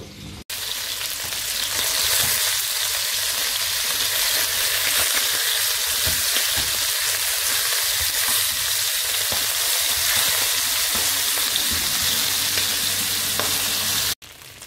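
Chicken pieces seasoned with salt and pepper frying in a pan, a loud, steady sizzle with crackling spatters that continues without pause for about fourteen seconds, with no talking.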